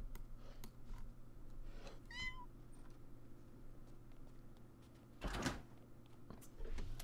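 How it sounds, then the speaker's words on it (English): A cat in The Sims 4 gives a single short, faint meow, followed by a soft thud and low background hum. "A tiny little kitty."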